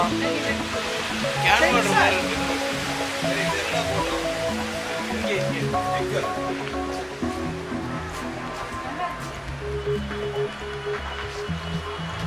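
Water from a fountain rushes steadily as a continuous broad splashing roar, with people talking and a murmur of voices underneath throughout.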